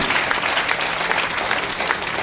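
An audience at a business achievers' event in Punjab breaks into sustained applause, a thick wash of many hands clapping loudly and steadily throughout.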